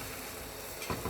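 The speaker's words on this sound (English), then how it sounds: "You can hear the sizzle." Toasted cheese sandwich sizzling on a hot non-stick tawa, a soft, steady sizzle with a couple of faint scraping touches near the end, heard alone.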